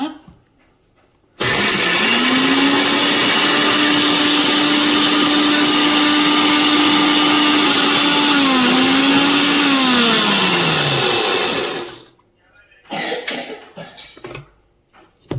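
A kitchen mixer grinder whirs loudly and steadily for about ten seconds as it grinds garlic cloves with spices. The motor pitch dips near the end before it cuts off, followed by a few short knocks and rattles.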